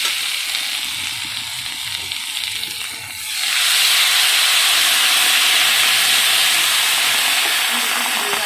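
Water poured into a hot pan of fried ingredients during simple village-style chutney cooking bursts into a loud, steady steaming hiss and sizzle after a quieter stretch of background frying.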